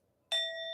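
A bell or singing bowl struck once after a short silence, ringing out with a clear, sustained metallic tone and steady overtones.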